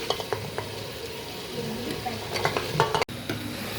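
Potatoes get stirred into a thick mutton gravy in a pan, with clinking spoon-on-metal scrapes and taps over a low sizzle, and a brief drop-out near the end.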